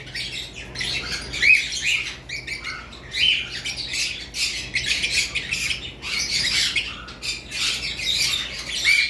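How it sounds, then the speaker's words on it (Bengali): A breeding pair of cockatiels, a white-faced pied male and a pale pied female, gives repeated sharp squawks and chirps close by, calling in quick bursts almost without pause. "দর্শক দেখতে পারতেছেন ভি পাইট কোকাটেলটা ব্রিড করতেছে।"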